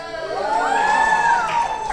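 An audience at a New York Comic Con 2016 comics panel cheers and whoops loudly in a sustained burst, with a shrill whistle rising over the crowd.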